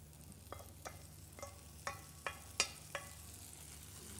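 Meat frying in a pan with sofrito while a utensil stirs it, giving a faint steady sizzle with a series of soft clinks and scrapes at irregular intervals.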